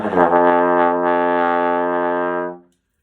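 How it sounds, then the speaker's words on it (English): Trombones and euphoniums hold one deep, steady low F together for about two and a half seconds, then stop cleanly into silence. "So your low F trombones and euphonium should sound like this."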